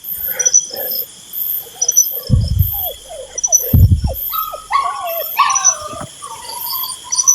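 A puppy howling and whimpering in thin, wavering cries in a forest, with a couple of low thuds and steady insect buzz behind.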